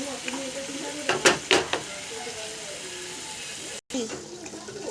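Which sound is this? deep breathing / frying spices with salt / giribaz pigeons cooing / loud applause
frying spices with salt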